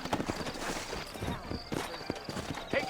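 Horses clip-clopping through a town in Red Dead Redemption gameplay, brisk close hoofbeats in quick uneven rhythm with a short whinny, under game ambience.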